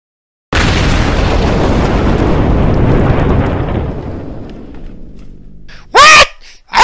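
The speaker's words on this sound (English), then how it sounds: "You have destroyed the school wrecking ball!" A wrecking ball smashes into a school with a sudden loud crash that rolls into a long rumble of falling debris and fades over several seconds, followed by brief startled voices.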